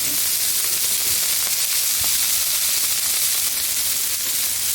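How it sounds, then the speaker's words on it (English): Onions and shaved Brussels sprouts frying in avocado oil on a flat-top griddle, a loud, steady sizzle and hiss that continues without a break, close up and with no voices. "Let's take our onions, our shaved Brussels sprouts, cook these bad boys up."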